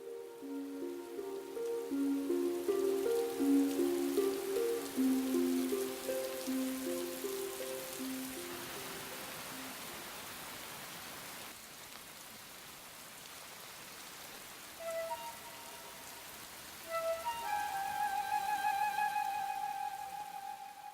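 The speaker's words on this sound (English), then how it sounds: "The rain has become heavier, and the butterflies have flown into the shelter of the bamboo." Steady rain hisses across the whole clip in a bamboo jungle valley in southwest China, a dense wash of falling drops with no voices, while soft tonal music plays underneath.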